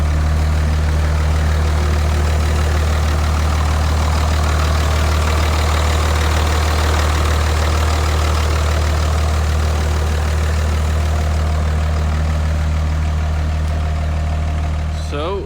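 2003 Dodge 3500 truck with a 5.9L Cummins diesel idling, a steady deep rumble with a faint knocking clatter, loud and close throughout.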